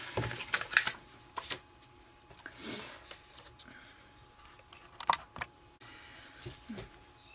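Paper being cut into pieces for a notebook, with irregular close crisp snips and rustles, some bursts quick and clustered, others spaced out, and faint handling sounds in between.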